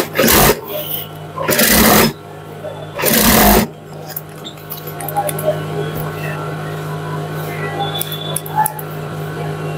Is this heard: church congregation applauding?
no